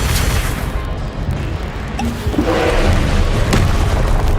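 A fiery Confringo spell blast in the video game Hogwarts Legacy, a loud booming burst with a rumbling tail, heard alone with no talk.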